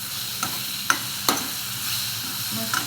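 Thinly sliced potatoes for a Maharashtrian potato bhaji are stirred in a sizzling pan, a steady close hiss broken by a few sharp scrapes of the spatula.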